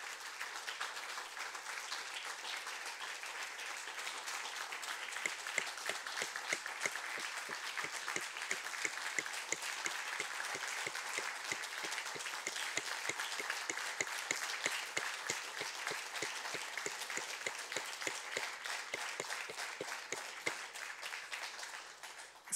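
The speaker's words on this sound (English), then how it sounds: "So let's just call them up to give them one big round of applause." Long, sustained applause from an audience for students called up at a Ben-Gurion University of the Negev Board of Governors ceremony: many hands clapping in a dense, even stream, heard from a distance and fairly faint.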